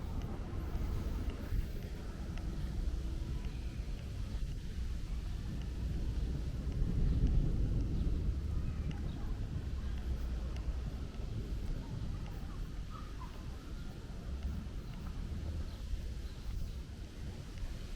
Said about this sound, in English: I do not have the wind screen, so you're going to hear that wind.